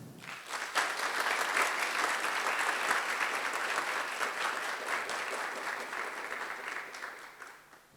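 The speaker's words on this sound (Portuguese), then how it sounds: "Pedimos uma salva de palmas aos nossos educadores e aos parceiros do projeto." Audience at a national financial education event in Bento Gonçalves applauding educators and project partners, a full, sustained round of clapping that swells quickly and tapers off at the end, heard from within the hall.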